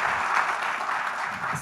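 Brief, steady applause from an audience, a dense wash of many hands clapping at moderate volume, lasting under two seconds without pause.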